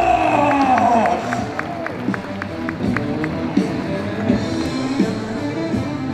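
Crowd at a kickboxing event cheering and applauding the winner of an ISKA 72.5 kg Australian title fight, a loud burst of cheers and whoops that settles into steady clapping and crowd noise with voices mixed in.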